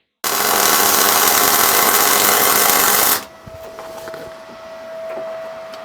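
An R-Tech MIG181 MIG welder on Easy-Set, at 7.5 metres per minute wire feed and 21 volts, welds box section with a loud, steady crackling hiss for about three seconds before cutting off to a low hum.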